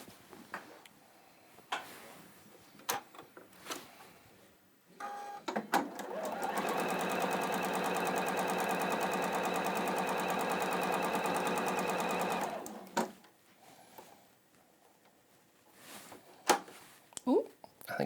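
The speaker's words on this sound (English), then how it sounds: "you sew a complete seam all the way along" A sewing machine stitches a complete seam along blue fabric, a steady, loud mechanical whir that runs for several seconds without a break. Talking comes before and after it.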